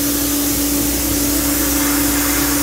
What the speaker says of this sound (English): soda, you don't want a whole bunch, so it's just a fine stream